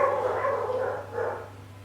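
A dog barks a few times, muffled and somewhat distant, over a steady low hum.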